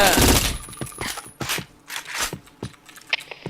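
Rapid bursts of gunfire from a first-person shooter video game, a dense volley at the start followed by scattered sharp shots and clicks, loud and close with game effects between them.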